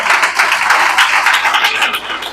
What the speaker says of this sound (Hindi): बजा दो तालियां